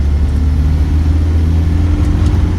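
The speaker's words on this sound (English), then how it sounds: "But there's second gear. Pulls quite nicely. Third gear." A 1998 Land Rover Defender 110 with its 300Tdi diesel engine pulls through the gears on a dirt road, a steady loud low rumble from inside the cab with no talk.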